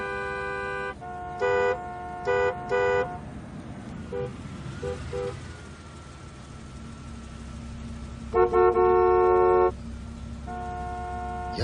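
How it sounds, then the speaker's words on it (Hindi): Street traffic on a weekday afternoon, with repeated car horn honks in bursts over a steady low hum of engines, the loudest honking late in the stretch, and no voices. "जोया, ये थर्सडे दोपहर को इतना ट्रैफिक होना जरूरी है क्या?"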